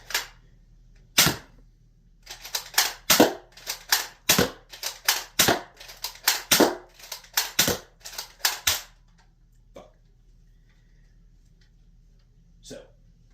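A Nerf Commander blaster fires foam darts in a rapid run of sharp, snappy clacks and pops close by. About a dozen shots land in quick succession, followed by a pause and two isolated clicks.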